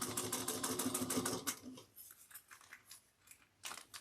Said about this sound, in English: Then we're going to sew this together.